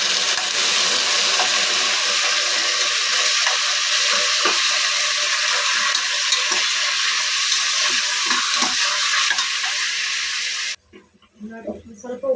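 Mutton dropped into fried onions in hot oil, giving a loud, steady close sizzle that runs for about eleven seconds before cutting off abruptly, with voices and clatter afterward.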